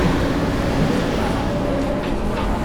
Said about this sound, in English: So I can hear his train pulling in now.